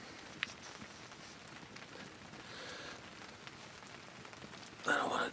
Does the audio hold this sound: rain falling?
yes